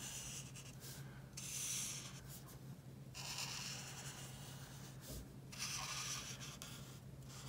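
Faint scratchy strokes of a marker coloring a heart on paper, in short repeated bursts, quiet and close.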